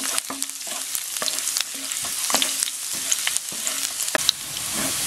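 Onion and garlic fry in hot cooking oil in a wok, with a close, crackling sizzle broken by repeated sharp scrapes and clacks of a stirring utensil against the pan.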